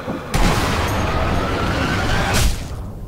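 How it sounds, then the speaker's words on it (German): A single loud, sharp gunshot-like blast in the video game Sniper Elite V2 rings out, followed by a long, sustained noisy rumble that cuts off abruptly, with no talking. "Wo kam gerade der Schuss?"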